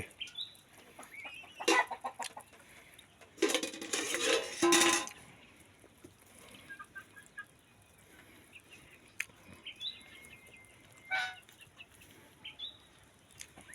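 A domestic goose family feeding at lunchtime in a home yard: scattered honking and clucking calls, a loud burst of wing flapping partway through, and no talking.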